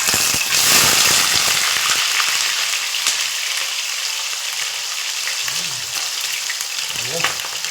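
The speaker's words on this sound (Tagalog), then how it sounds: "Prito na po natin." Milkfish (bangus) sizzles as it fries in hot oil, a loud, dense crackle that softens slightly after the first seconds and carries on steadily to the end, with a few brief pops.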